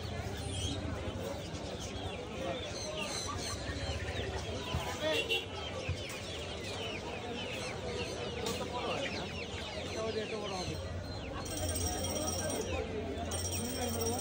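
Fancy chickens such as White Fullback and Polish Cap cluck continuously at a crowded bird market in Mirpur 1, Dhaka, with steady background chatter and someone talking over them.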